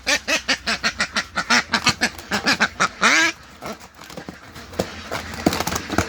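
Egg-laying ducks quack loudly and close up in a fast, regular run of about a dozen calls, then a single drawn-out honk, followed by quieter scattered quacks and handling noise.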